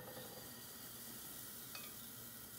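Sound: oat pancake batter sizzling in a frying pan

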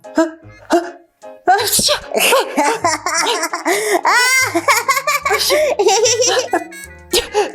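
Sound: sneezing after smelling a flower with black pepper

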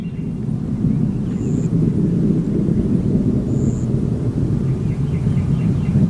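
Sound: Space Shuttle Endeavour main engines roaring at full throttle during launch

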